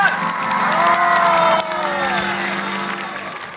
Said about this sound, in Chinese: 大家们掌声鼓励，谢谢你们